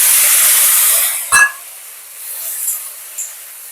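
Mustard and poppy seed paste with bowl-rinsing water goes into a hot pan for shukto. A loud, close sizzle hisses strongly at first, then drops away, with a brief sputtering burst and faint crackles after.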